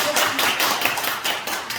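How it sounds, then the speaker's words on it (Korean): A small church gathering claps briefly, with scattered, uneven hand claps at moderate loudness. "박수 한번 치겠습니다."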